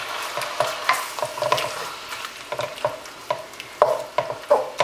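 Beef stir fry with broccoli, snow peas, scallions and hoisin sauce sizzles in a hot pan, a steady frying hiss broken by repeated scraping stirs close by, with no voices.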